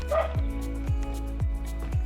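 A dog barks four times in a steady, evenly spaced rhythm, close and loud over a constant low background hum somewhere in Jamaica.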